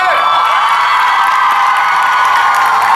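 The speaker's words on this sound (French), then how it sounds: "je vais vous demander vraiment de faire du bruit et un tonnerre d'applaudissements pour Tyler Hoechlin" Convention crowd at Paris Manga cheering, screaming and applauding for Tyler Hoechlin, a dense loud wall of shrieks and whoops sustained throughout.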